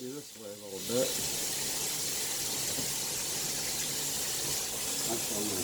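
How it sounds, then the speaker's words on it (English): A head of cabbage is rinsed under a running kitchen tap, a steady close gush of water splashing over the leaves, with a voice speaking briefly at the start and again near the end. "I'm going to take my cabbage and I've got to rinse it very well"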